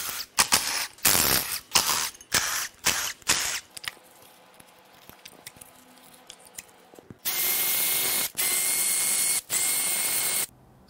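A ratchet and tools remove brackets and spark plugs from a Toyota 4Runner 1GR-FE 4.0 V6 engine. Rapid clicking bursts come first, then quieter handling and three longer, louder mechanical runs.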